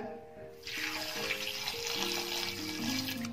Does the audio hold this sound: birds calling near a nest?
no